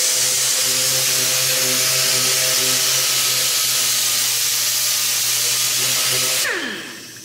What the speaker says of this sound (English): I'm going to do a little bit of sanding here